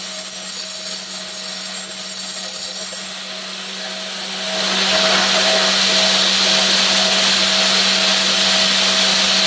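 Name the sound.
drill spinning to sharpen stump grinder teeth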